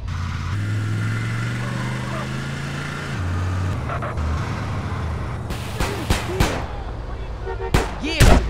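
Gunfire in the video game GTA San Andreas, a series of sharp shots rising near the end over engine rumble and game sounds.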